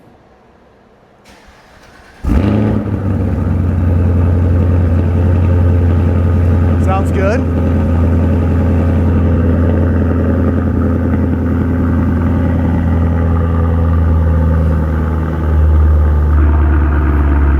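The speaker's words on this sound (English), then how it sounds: "First start up with the AWE exhaust." A Cadillac CT5-V Blackwing engine with an AWE SwitchPath exhaust cranks and fires up abruptly, then settles into a loud, deep, rumbling idle through the throaty exhaust, with a brief spoken remark over it.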